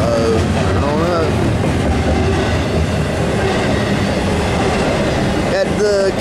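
An NS 222 intermodal double-stack freight train led by a trio of AC44 locomotives rumbles past at close range, with steady rolling wheel noise, rhythmic clacking and occasional squeals, while a voice talks faintly over it.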